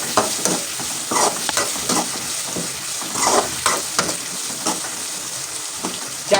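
Curry leaves and turmeric powder fry in hot oil for a tomato curry, giving a steady crackling sizzle with repeated stirring scrapes throughout, close and moderately loud, with no talking.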